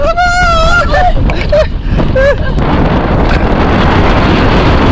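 Strong wind buffets the microphone at an island shoreline, roaring loudly and steadily, while a high whistle and shouting voices cut through during the first couple of seconds before the gusting takes over.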